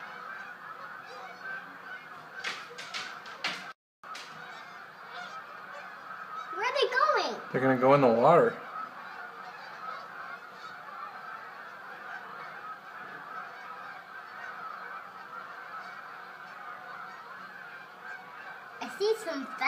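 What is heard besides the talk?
geese honking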